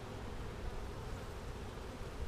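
Honey bees buzz steadily at an opened hive, a dense continuous hum close by with no pauses and no talking, their colony weakened by a varroa mite infestation.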